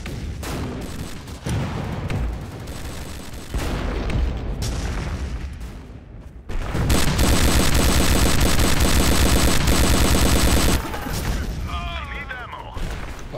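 An MG turret fires in the Empires Source mod game on the quarry map, with sustained loud automatic bursts mixed with other gunfire and booms, building to a dense unbroken barrage.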